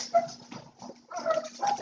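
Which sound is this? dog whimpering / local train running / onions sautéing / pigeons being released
dog whimpering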